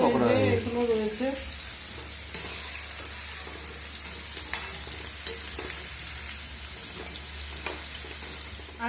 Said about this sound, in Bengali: দেখো আমাদের চিলি চিকেনের যে মাংস ভাজা হচ্ছে, কত সুন্দর লাগছে না দেখতে।